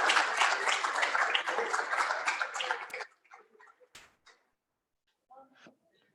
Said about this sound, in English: now we can have a round of applause for our cabinet